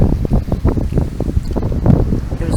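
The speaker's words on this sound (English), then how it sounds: "It's really windy." Strong gusty wind buffets a microphone at the seashore, loud rumbling low-pitched blasts pulsing irregularly with no talk, windsurfers out on the water nearby.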